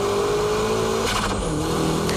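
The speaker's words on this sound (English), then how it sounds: "And from here, it's power drifting." A car power drifting uphill after braking and shifting down to second, a loud sustained engine drone whose pitch slides down as revs change, with a faint tire squeal.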